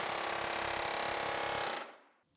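Pneumatic air chisel hammering at stuck bolts on the door post of a 2017 GMC Terrain Denali under rebuild, a loud steady rapid rattle for about two seconds that cuts off and trails into quiet.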